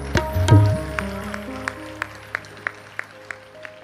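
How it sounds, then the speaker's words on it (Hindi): Scattered audience clapping at a Hindi comic poetry gathering: a brief burst of hand claps that thins into a few isolated claps at a steady pace, with a sustained tone underneath. "कुछ लोगों ने ताली बजाई है"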